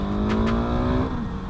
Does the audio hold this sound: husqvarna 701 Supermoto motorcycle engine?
yes